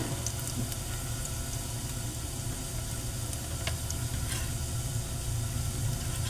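Salmon steak frying in hot oil until golden brown, a steady close sizzle that crackles continuously with occasional faint pops, no talk over it.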